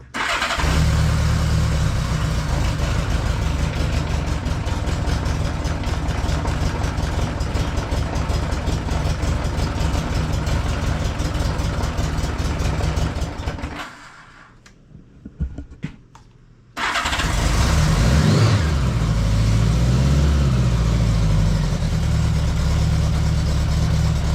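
A 1976 Honda Goldwing LTD motorcycle engine runs loud and steady at idle for most of the stretch, cuts out briefly with a few sputters, then fires back up and settles into a strong rumbling idle again.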